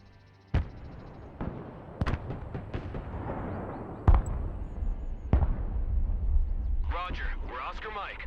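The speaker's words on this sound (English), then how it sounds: "the Lithuanian artillery responded" Lithuanian PZH-2000 artillery fires in the Broken Arrow video game, with several sharp, heavy booms spaced a second or two apart and rumbling tails between them, followed by a voice speaking near the end.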